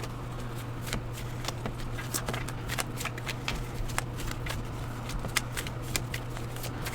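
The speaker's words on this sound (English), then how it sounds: "I'm just going to shuffle" Playing cards being shuffled, a steady run of rapid riffling flicks over a low constant hum, with no talking.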